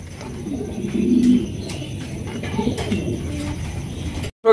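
Yellow Sirazi pigeons in Lahori style at a pigeon market coo in low, steady, overlapping murmurs that swell briefly, with faint bustle underneath until the sound cuts off abruptly at the end.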